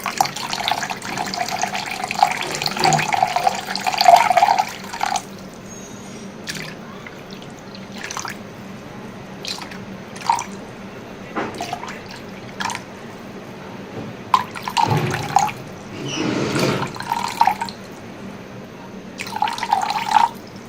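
White vinegar poured into a container on a kitchen scale: a steady, close liquid stream for a few seconds, then scattered drips and small splashes trailing off.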